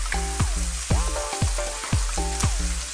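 Bamboo shoots and vegetables stir-frying in a wok for a Chinese chilli shrimp dish: steady loud sizzle with repeated scraping stir strokes roughly every half second, no voices.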